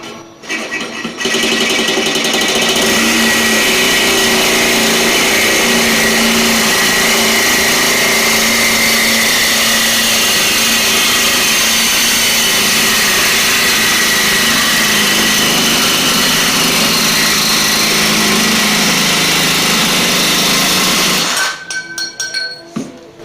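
A high-pitched power tool cutting through a part on a 1979 Chrysler Cordoba, a loud steady whining grind that runs continuously for about twenty seconds before stopping abruptly.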